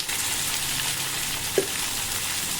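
Cumin seeds and green chillies tempering in hot oil, a continuous close sizzle with one brief clink of a utensil midway.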